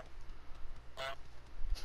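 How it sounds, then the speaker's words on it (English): Goose honk in Untitled Goose Game, a single short bright honk in the middle against faint background noise, with no talking. "I can honk."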